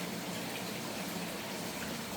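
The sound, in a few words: creek water flowing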